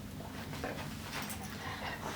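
A gigantic two-year-old dog whimpers in faint, soft bursts over a steady low background hum, with no one talking.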